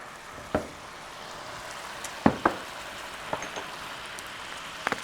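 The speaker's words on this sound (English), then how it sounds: "You can see that wine is nicely cooking down." Wine simmering and reducing in a pan for pumpkin sauce tortellini makes a soft, steady bubbling hiss, dotted with a few sharp pops and spits.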